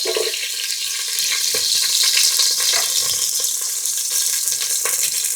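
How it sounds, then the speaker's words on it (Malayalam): Shallots sizzle in hot coconut oil in a heated pan, a loud, steady, dense crackle with no breaks. "നമുക്ക് അതിലേക്ക് കുറച്ച് വെളിച്ചെണ്ണ ഒഴിച്ചു കൊടുക്കാം ചെറുള്ളി ഇട്ട് കൊടുക്കാം"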